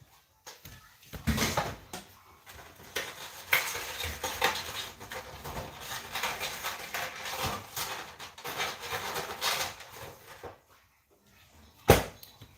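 Pumpkin and oil muffin batter is stirred in a bowl with a utensil, giving steady scraping and sloshing for about ten seconds, close and moderately loud, then a pause and a single sharp knock near the end, with no talking.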